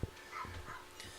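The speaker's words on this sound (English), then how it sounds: "Oh my God, that Lola, she's barking." A dog in a studio lounge giving a few short, muffled barks and yips, fairly close but not loud, alone without speech.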